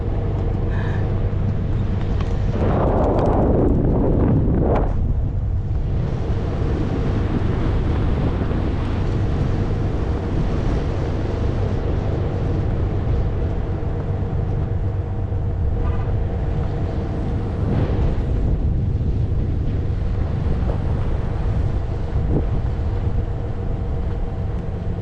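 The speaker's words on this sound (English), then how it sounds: "It's a little windy." Wind buffeting the front deck of a ferry crossing a bay, a constant low roar and microphone rumble over the deep hum of the vessel's engine, with gusts swelling briefly near the start and again later.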